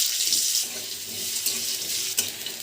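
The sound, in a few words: water running from tap while washing flat beans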